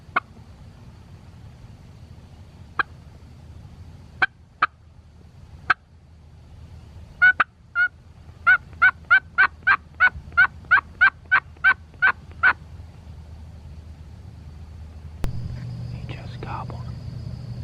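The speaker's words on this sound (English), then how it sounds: "Gobbled straight out here in front of me, maybe 100 yards, 150." A wild Osceola turkey gobbles in a deep swamp, far off and faint, heard as scattered sharp bursts and then a rapid run of about a dozen pulses over a quiet outdoor hush, with a man whispering near the end.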